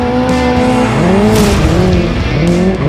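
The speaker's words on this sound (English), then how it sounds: "the new N Drift Optimizer makes drifting easier, more accurate, more fun." A Hyundai IONIQ 5 N electric car drifts with its tires squealing loudly and continuously, the shrill squeal wavering in pitch as the slide changes, close and intense for the whole stretch.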